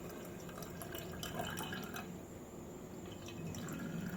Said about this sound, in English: So we're just going to pour this through the strainer.